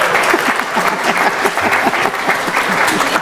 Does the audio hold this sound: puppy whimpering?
no